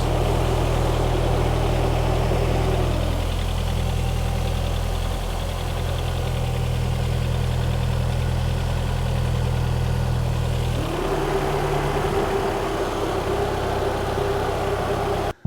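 A car engine idles on its first start, a steady close-up drone whose pitch shifts twice as the idle speed backs off while the engine warms.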